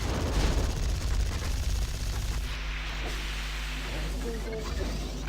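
Gun towers in the video game Sanctum 2 fire a rapid, steady stream of shots that stays loud in the first half, then thins under lingering noise and occasional clanks.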